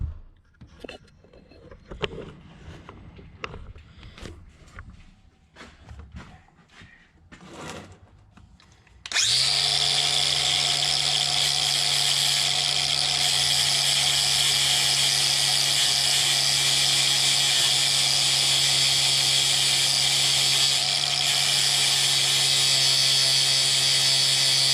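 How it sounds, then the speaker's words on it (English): A flapper sanding wheel on a power tool starts up abruptly partway through and keeps grinding in a loud, steady high whine, with light clanks and handling noises before it, while repairing a grain drill part. "I know it's a flapper wheel, sanding wheel"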